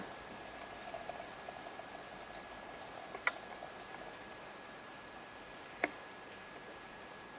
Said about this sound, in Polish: Woda wrze.